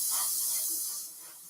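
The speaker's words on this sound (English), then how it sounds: "Just spraying lightly" An airbrush sprays paint lightly at around 20 psi onto a 1/24 scale Airfix Spitfire Mk IV model, a steady soft airy hiss that fades a little toward the end.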